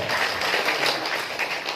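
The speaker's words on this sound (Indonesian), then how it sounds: "kita tepuk tangan untuk Karang-Taruna" Audience applause for a village youth organisation at an evening inauguration ceremony in Karanggupito, Indonesia: steady, dense clapping that holds at an even level without a break.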